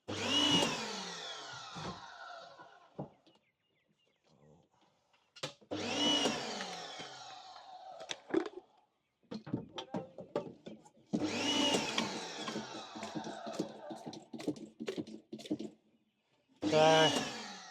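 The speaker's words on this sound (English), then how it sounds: "Don't mind the noise, that's just the pressure washer." A pressure washer runs in loud bursts beside a Hyundai Getz during a wash, the harsh spray and motor roar starting and stopping several times with quiet gaps between.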